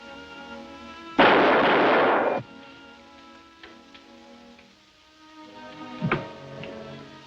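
A loud, sudden blast from a death capsule set off by radio bursts out and roars steadily for about a second before cutting off, leaving a quieter room tone with a few faint knocks afterward.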